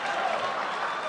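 Dense, continuous applause and clapping from an audience at an esports tournament venue, loud and sustained with a crowd murmur.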